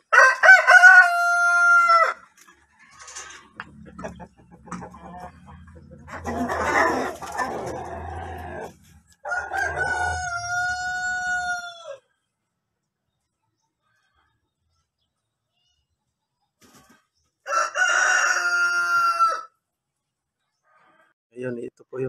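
Brahma and Rhode Island Red roosters crowing loudly nearby in several separate drawn-out calls with silent gaps between, a voice talking in between the crows.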